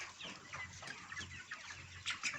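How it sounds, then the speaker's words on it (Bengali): A poultry chicken, caught and struggling to get free, clucks in a series of short, close, fairly faint calls with no talking over them. "পাশে আর একটা পোল্ট্রি মুরগি রয়েছে"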